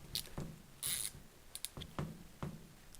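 Bolts being undone on a Magneti Marelli alternator from a Land Rover 300Tdi, heard as a series of short mechanical clicks and ratcheting bursts at close range, quiet and spaced irregularly, with no one speaking.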